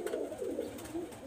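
Teddy-breed tournament flying pigeons give a short run of soft, low, rolling coos close by, alone and steady throughout.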